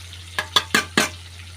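Four quick scraping strokes of a spoon stirring spices with whole eggplants in a hot pan, close and distinct over a steady low hum.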